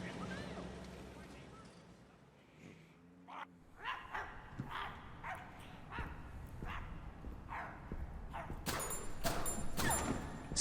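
Dogs in the horror game My Friendly Neighborhood bark in repeated sharp yaps and whines amid game noise, rising toward a louder flurry near the end, with a person talking at times.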